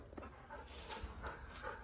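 A dog named Boo Boo whimpers softly in a few short, high whines, quiet against a steady background in a car workshop where a Honda K24-swapped Porsche 914 is being worked on.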